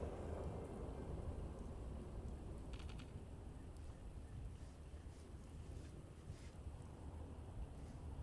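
Heavy rain storm with rolling thunder in a video game, a steady loud downpour roar throughout with low rumbling beneath.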